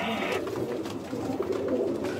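Sialkoti pigeons coo in a low, steady murmur that runs continuously and fairly close, with no voices over it.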